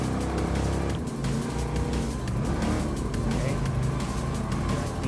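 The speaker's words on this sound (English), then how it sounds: "Revving up and stay on the 6th gear." Pontiac Firebird Trans Am engine in Gran Turismo Sport revving loudly and steadily through a custom race, a continuous dense roar with hints of tire squeal and faint commentary underneath.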